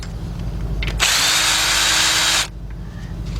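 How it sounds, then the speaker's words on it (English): A cordless impact gun runs one loud, steady burst of about a second and a half on engine bolts of a 2003 Jeep Liberty Sport 3.7, with quieter garage noise before and after. "take my cordless gun. Go ahead out there and take those bolts out of there"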